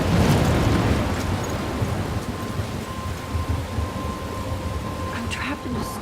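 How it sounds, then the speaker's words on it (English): A heavy video game thunderstorm with dense, steady rain hiss and low thunder rumbling at the start, then settling into a constant downpour with faint crackles. No one speaks. "I'm trapped in a storm?"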